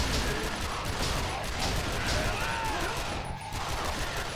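Rapid, dense gunfire in Yakuza: Dead Souls as zombies are shot: a continuous loud barrage of overlapping shots and mechanical clatter filling the whole stretch.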